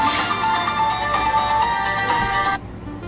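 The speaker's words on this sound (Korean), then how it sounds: "전화 왔습니다." An incoming call rings on a phone, a loud, bright repeating electronic tone that sounds alone for several seconds and then cuts off abruptly.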